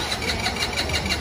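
A scooter engine turns over repeatedly without catching. It makes a steady, rhythmic cranking pulse at moderate volume for a brief moment.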